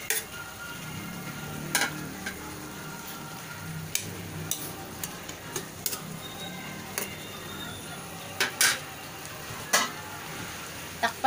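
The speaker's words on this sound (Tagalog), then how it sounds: "Lalagay na din natin yung carrot saka repolyo." Carrot and cabbage are stir-fried for pansit, giving a soft, steady sizzle broken by sharp clinks and scrapes of a utensil against the pan, irregular and close.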